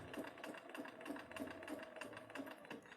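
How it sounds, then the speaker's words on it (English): A sewing machine runs steadily through fabric, its needle hammering in a fast, even rhythm at close range, with no voices over it. "I'm going to then give myself a couple stitches into the fabric"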